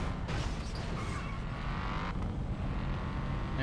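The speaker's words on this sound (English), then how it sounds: "this is not even a jet-powered sounding car. You basically just took a V8" A V8-like car engine drones loud and steady in the Flatout 3 racing video game, a continuous revving roar with faint tire noise over it and no break.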